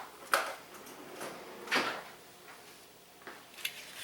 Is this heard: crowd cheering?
no